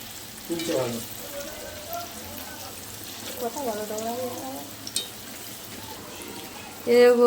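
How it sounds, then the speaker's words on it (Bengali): Palm fruit and rice flour fritters deep frying in hot oil, a soft steady bubbling sizzle beneath a woman's intermittent speech, with a louder burst of voice near the end. "বড়াগুলো কেমন ফুলছে দেখো, শুধু ভালোই ফুলছে, মানে তেলটা ভালোই গরম হয়েছে ওই জন্য ফুলছে।"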